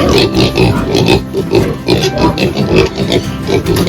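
Pigs on a farm grunt and oink in a busy, close chorus of repeated snorts with no clear rhythm. A faint voice is heard in the background.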